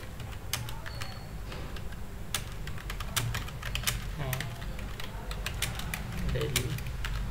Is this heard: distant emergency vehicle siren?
no